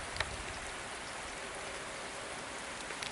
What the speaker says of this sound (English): And thank God it's raining